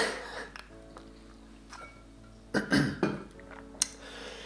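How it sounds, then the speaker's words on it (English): A woman hosting a live drawing session clears her throat several times in short, quiet bursts close to the mic, with soft breathy pauses and small rustles between them. "Excuse me for having to clear my throat so much."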